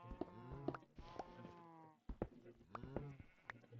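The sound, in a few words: cows mooing in Minecraft video game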